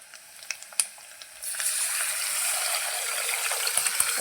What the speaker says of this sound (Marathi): कोथिंबीर छान तेलामध्ये फ्राय झाली ना त्यामध्ये लगेच आपण मिक्स केलेलं वरण आहे ना ते ओतून घेऊ